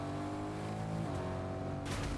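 Car engine in Fortnite, a steady, moderately loud droning hum that holds its pitch with little variation, ending in a brief burst of noise, with no voices.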